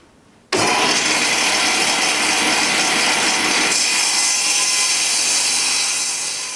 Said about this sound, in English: we're going to turn the saw on